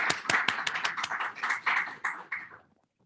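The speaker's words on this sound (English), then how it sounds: "Everybody applause" A small conference audience at an international conference at Ryukyu University claps in distinct, sharp hand claps, fairly close, thinning out and fading to silence after about two and a half seconds.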